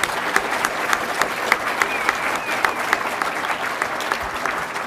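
A convention audience at PAX Prime 2011 applauds a game historian, dense steady clapping from a large crowd sustained for several seconds with occasional sharper claps.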